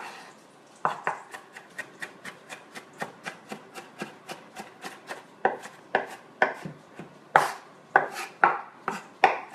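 A knife rocks through onions on a cutting board, giving a quick, regular run of crisp chopping strikes that grow louder and sharper toward the end, close and alone.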